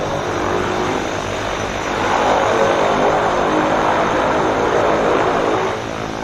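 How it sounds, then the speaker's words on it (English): Twin Otter floatplane with PT-6 turboprop engines maneuvering away from the dock at Vancouver Harbour; a steady, loud propeller and turbine drone that swells slightly midway and holds for several seconds, with no talking. "I just love the sounds of the PT-6 on the Twin Otter as they're maneuvering the aircraft out of the dock"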